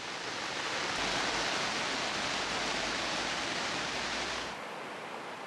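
Torrential rain pours down steadily on a mountain road in Bhutan on the way to Merak, a dense loud roar of water that eases slightly near the end.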